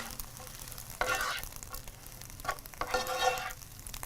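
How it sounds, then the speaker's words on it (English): Whole wheat spaghetti being stirred and tossed in a hot pan for an Italian pasta dish, with two bursts of scraping and sizzling motion against a quiet low background, no talk. "you just want to mix it until it gets until it just heats through the whole wheat spaghetti"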